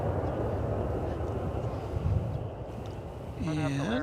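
Airliner landing at DFW Airport after a long flight from London: a steady, fairly faint rumbling engine roar with a brief swell, then a rising whine near the end, and a voice briefly speaking.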